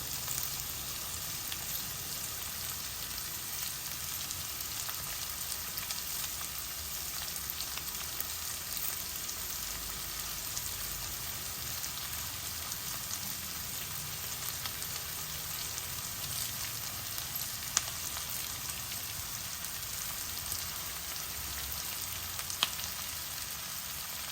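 Fresh curry leaves fry in hot oil in a pan while cabbage egg fry is being cooked, giving a steady close sizzle and crackle that continues throughout, with no voices.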